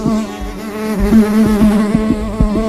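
A bee buzzes loudly and close, its drone wavering in pitch with a few sharp bumps as it moves around.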